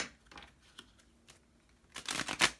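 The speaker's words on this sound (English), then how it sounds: "Give it a good shuffle." Tarot cards being shuffled, with scattered soft riffles and taps that build into a louder, busy flurry of card shuffling near the end, close and dry.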